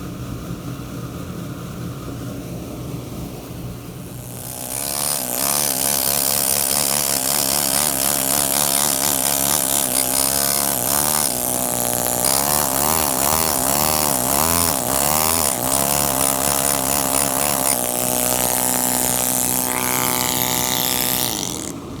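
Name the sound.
saw cutting marble stone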